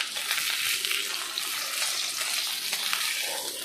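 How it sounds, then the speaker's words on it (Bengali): Rohu fish frying in a little oil in a pan, a steady dense sizzle with light crackling throughout, close and fairly loud, no voices. "অল্প অল্প তেল দিয়ে ভাজি"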